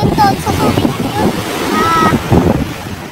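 Sea waves wash along the shore at Subic, Zambales, a steady rushing surf mixed with wind buffeting the microphone, while people talk nearby.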